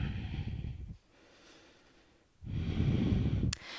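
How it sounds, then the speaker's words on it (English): Deep breaths drawn through the nose during a yoga boat pose, two loud breathy rushes separated by a quiet pause, close and with no talking. "Breathing deeply through the nose."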